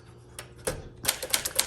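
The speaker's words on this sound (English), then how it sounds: "you type over your mistake and keep going" A 1959 Alpine Blue Sterling manual typewriter gives a few scattered clacks, then a faster run of crisp, close keystrokes.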